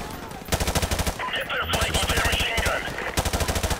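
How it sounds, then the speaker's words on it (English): Allied soldiers in the Modern Warfare video game keep up sustained machine-gun fire in rapid bursts, with steady rattling and overlapping shots throughout and no talking. "Just let them do the shooting here."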